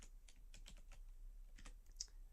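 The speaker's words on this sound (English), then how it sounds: "I can type add character" Keystrokes on a computer keyboard while typing a console command for debugging scripts, a few scattered quiet taps in short bursts over a steady low hum, no voices.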